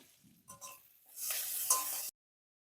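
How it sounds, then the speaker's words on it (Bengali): Asafoetida, chopped green chilli and ginger hit hot white oil in a wok, giving a brief soft clink followed by a steady, close sizzle that cuts off abruptly after about two seconds. "কড়াতে একটু সাদা তেল দিয়েছি প্রথমে দিলাম হিং কাঁচা লঙ্কা কুচি আদা কুচি"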